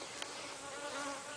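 Honey bees buzz steadily around hive frames during a beekeeper's honey harvest, a close, continuous droning hum with no talk.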